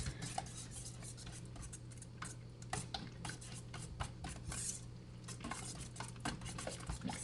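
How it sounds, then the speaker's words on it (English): Raw eggs seasoned with red pepper being whisked in a bowl, giving a steady, soft scraping and clinking rhythm of the whisk against the dish with a faint background hum. "we're going to whisk this together"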